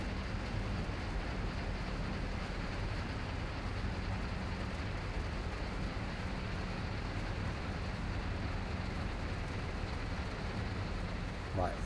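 Steady rain in the Train Sim World 2 game at Horseshoe Curve, a dense, constant hiss that holds at an even level throughout, with no voices over it.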